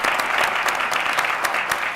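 A brief burst of steady applause fills the room at a board of education meeting, moderately loud and continuous, with no voices over it.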